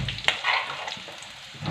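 Garlic frying in a pan for a quick okra (bhindi) stir-fry: a close, continuous sizzle and crackle with a few light stirring scrapes.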